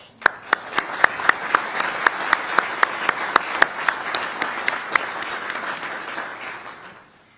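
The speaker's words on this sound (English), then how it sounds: "Let's give them all a round of applause." An audience of defense officials applauds the assembled military leaders, a few sharp, distinct claps standing out over a broad roll of clapping that fades out near the end.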